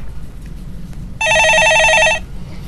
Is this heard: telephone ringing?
yes